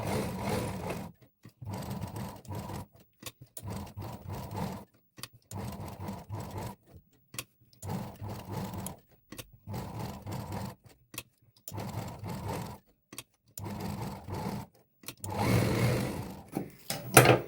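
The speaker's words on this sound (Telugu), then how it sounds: "ఇప్పుడు క్యాన్వాస్ పక్క నుంచే కరువు డిజైన్ తిప్పుకుంటూ నీట్గా స్టిచ్ చేసుకుందాం" A sewing machine stitches a curved design along canvas lining in repeated close bursts of rapid whirring, stopping and restarting every second or two, with no talk between runs.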